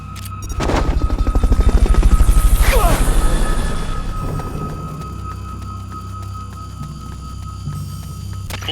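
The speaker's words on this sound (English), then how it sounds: "Fulton recovery helicopter is complete." Helicopter arriving for a Fulton recovery in the video game Metal Gear Solid Peace Walker: a loud, rising roar of rotor chop and engine with a crashing burst early on, easing into a steady whirring hum.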